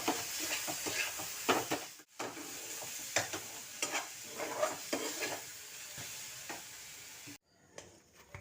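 Coconut and jaggery cook in a pan while being stirred, a steady soft sizzle with repeated scraping strokes of the spoon over several seconds, briefly broken by pauses.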